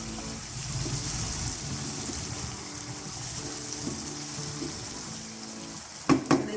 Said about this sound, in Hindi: अब इसको आधा मिनट तक हमने इसको फ्राई करेंगे।